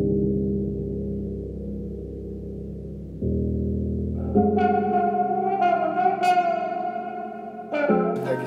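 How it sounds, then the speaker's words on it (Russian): Mostly instrumental recorded music from Dagestan plays alone with no vocals, a low droning band that swells and thickens with bright layered melodic lines and effects-heavy, echoing tones partway through. "здесь прям очень много инструментала музыки и мало слов"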